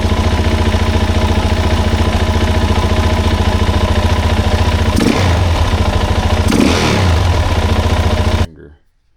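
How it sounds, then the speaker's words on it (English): A 2007 Suzuki DRZ400 motorcycle engine idles steadily and close by with an even, rapid thumping pulse, with a couple of brief blips around the middle before the sound cuts off abruptly near the end. "Like a pretty good idle, right?"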